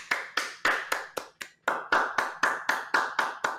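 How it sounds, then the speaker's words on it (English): A single person clapping, about a dozen sharp, evenly spaced claps with a brief pause near the middle, close and dry with no other voices. "You're the only one clapping"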